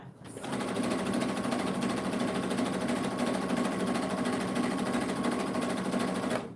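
A sewing machine runs continuously, stitching fabric in one unbroken, close and steady mechanical whir that holds for several seconds before stopping.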